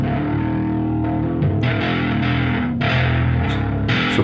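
Electric touch guitar played through distortion, dense sustained overdriven tones with bright attacks and shifting chords, loud and continuous with no talking.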